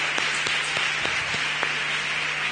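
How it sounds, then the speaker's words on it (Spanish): A standing audience applauds at the close of the final panel of a conference on spinal cord injury pain, a steady broadband wash of clapping with a few sharper individual claps standing out. "Fuerte aplauso."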